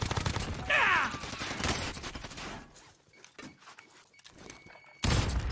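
Gunfire rattles through a Warzone battle royale match: dense, loud bursts of shots and impacts open the scene, fade to scattered quieter pops, then a sharp heavy burst returns at the end.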